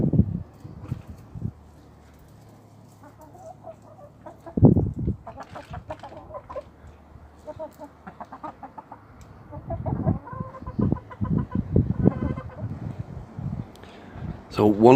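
Backyard chickens cluck and murmur close by, scattered clucks building into a busier stretch near the end, while a person talks over them at times.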